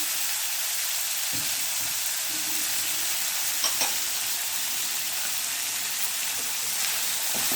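Grated coconut frying in oil in a kadai on a slow flame, a dense steady sizzle with a few brief stirring scrapes and knocks, close and alone.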